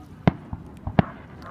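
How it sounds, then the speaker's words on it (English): Fireworks at a July 2nd display in Stamford, Connecticut, heard as two sharp distant bangs with a couple of fainter pops between them, outdoors on a quiet night. "2015, Stamford, Connecticut fireworks"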